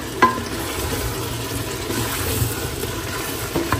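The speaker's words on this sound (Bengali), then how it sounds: "ঝাল ঝাল চিকেন রোস্টটাও করে ফেলছি।" Spicy chicken roast sizzles steadily as it fries in a pan, with scraping stirs and a couple of sharper clinks of the spoon against the metal, close by and without talk.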